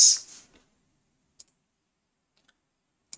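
Computer keyboard keys pressed on a Ubuntu machine, a few sparse, sharp clicks spaced out over a few seconds, close and quiet with near-silence between them after a brief initial rustle.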